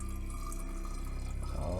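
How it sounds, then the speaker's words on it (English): Herbal tincture liquid is poured steadily into a container at home, making a continuous close trickle that runs unbroken throughout with no talking. "And then for the rest, you're just gonna pour that in here, and hopefully it's just perfectly enough."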